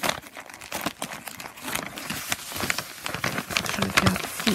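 A paper envelope is opened, its contents pulled out with close crinkling and rustling in irregular bursts, while a person speaks softly over it.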